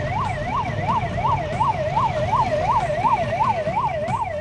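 An ambulance siren wails in a steady rising and falling cycle, about two sweeps per second, loud and continuous over a low road rumble with no voices.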